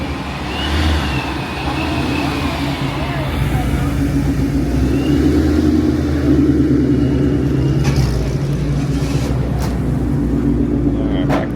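A 1965 Chevrolet Malibu at a car show at Pierce College runs with a steady engine rumble and a faint whistle above it, lasting throughout with crowd noise around.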